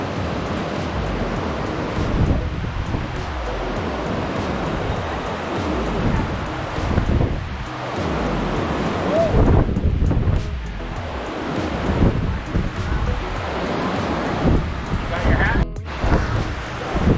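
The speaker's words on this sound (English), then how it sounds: "we just stopped along the Churchill River to take a look at all the big rapids that are here" Big rapids on the Churchill River roar steadily and close, a dense broadband rush of churning water mixed with wind buffeting the microphone, with no break in the noise throughout.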